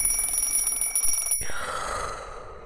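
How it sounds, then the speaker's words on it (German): An alarm clock rings in a German Minecraft animation at six in the morning, a rapid, loud, continuous metallic ringing that stops abruptly after about one and a half seconds and is followed by a fading whoosh. "Jeden Tag um 6 Uhr klingelt der Wecker"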